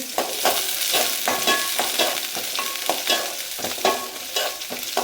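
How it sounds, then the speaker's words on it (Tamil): Onions sautéing in a hot pan while a spoon stirs them repeatedly, steady sizzling broken by rhythmic scraping strokes, close and clear with no talk. "அப்புறம் வந்து அப்புறம் வெங்காயம் எல்லாத்தையும் போட்டு"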